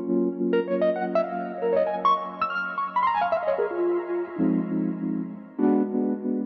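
A synthesized track runs through a Ujam Finisher Neo plugin preset, giving a steady sustained drone under melodic lines that rise and then fall in stepped pitches, ending in a held chord that swells again briefly.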